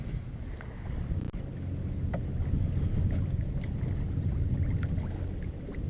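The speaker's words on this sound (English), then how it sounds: "that's what it's like sailing on Lake Erie when the wind is very slight" A sailboat moving slowly on Lake Erie in light wind, a soft continuous rush of water and breeze with low rumble, occasional faint creaks and ticks, calm and steady.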